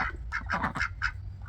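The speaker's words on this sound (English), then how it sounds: "The baby ducklings are no longer babies," Young ducks on a small farm with sheep and chickens give a quick run of several close, clear quacks.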